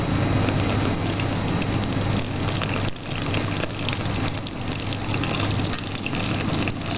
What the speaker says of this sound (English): now I'm going to pour it through the strainer